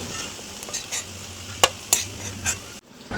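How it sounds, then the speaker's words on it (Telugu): Beaten egg fries in oil while a spatula breaks it into small pieces, a close, steady sizzle punctuated by sharp metal scrapes and clinks against the pan. "ఇప్పుడు మనం ముందుగా బీట్ చేసి పెట్టుకున్న ఎగ్ని వేసుకోవాలి. ఇప్పుడు ఈ విధంగా చిన్న చిన్న పీసెస్గా చేసుకోవాలి."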